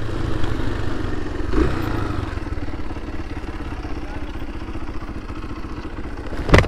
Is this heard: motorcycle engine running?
yes